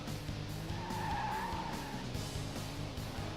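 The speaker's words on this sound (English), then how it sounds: "you handbrake and you turn, it really gets you flying" A car skids under the handbrake in the PS2 racing game Hot Wheels World Race: a sustained tire squeal over a steady engine drone, loud and continuous with no talking.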